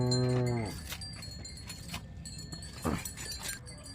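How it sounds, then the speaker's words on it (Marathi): A cow lets out a loud, drawn-out moo at the start. Quieter farm noise, shuffling and a brief second low call follow. The animals are household cows of full size, some with four teeth and some with two, one due to calve in fifteen days. "एकदम पुऱ्या मापाच्या गाई बरं का."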